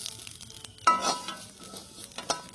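Pirandai frying with sesame seeds in oil in a pan: a soft sizzle with scattered stirring and metal-on-pan clinks, one louder scrape near the middle, close by and without talking.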